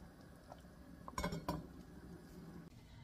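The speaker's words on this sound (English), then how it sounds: "I'm gonna put the lid on and just let it cook away for a little while." A metal lid set onto a pot of rice cooking for a Gullah shrimp stew with okra, giving two quick clinking clanks close by over a low steady simmer.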